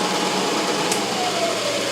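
Machining holes partway into a scooter deck, with the cutter whining steadily and closely through the whole stretch, brief higher squeal near the middle, no voices.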